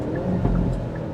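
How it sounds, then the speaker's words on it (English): A 2025 Hyundai Elantra N engine rumbles close by, with a brief crackle and pop from the exhaust partway through the steady, loud drone. "I don't know if you can hear that on camera, but the crackle and the pops"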